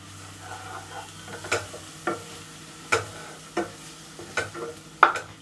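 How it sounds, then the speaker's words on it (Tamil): Chettinad chicken curry with ground Chettinad masala powder is stirred in a pan, a spoon scraping and knocking in irregular strokes over a low sizzle, with no talking. "இப்போ இதை லைட்டாக மிக்ஸ் பண்ணி விட்டுருங்க."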